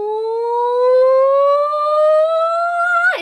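A voice imitates a town tornado siren with a loud, sustained, slowly rising wail that drops sharply in pitch at the end, close and alone.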